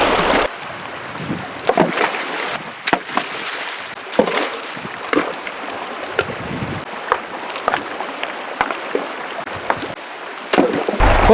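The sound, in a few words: rocks being thrown back into water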